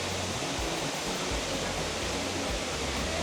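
A waterfall in South Goa, India, roars as a constant, broadband rush of falling water, close and steady with no voices and no change in level.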